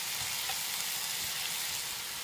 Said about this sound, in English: I will allow it to sizzle on a full flame for a few minutes